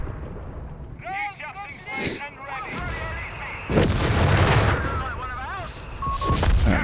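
Mortar and artillery fire in Company of Heroes 3 land as deep booms and blasts, with a loud sustained barrage near the middle, while a caster talks over the battle.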